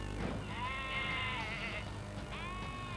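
Sheep from a roaming flock on the Baildon moors bleat twice nearby, a long wavering cry followed by a shorter one, over a low outdoor rumble.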